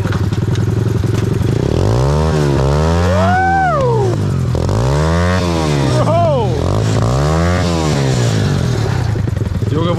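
Engine of a motorized shopping cart revving loudly and close, rising and falling through repeated throttle blips with a raw, rough exhaust note and rattling clatter throughout.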